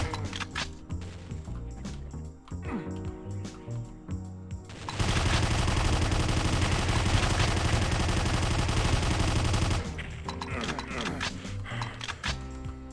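An enemy machine gunner in the Doom video game opens up with a sustained, loud burst of rapid gunfire lasting several seconds, framed by scattered shots and game noise before and after.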